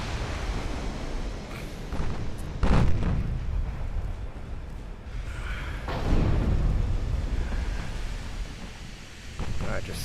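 Heavy naval gunfire from battleship main guns in the Ultimate Admiral Dreadnoughts naval combat game, several deep booming shots spaced apart over rumbling wind-like background noise.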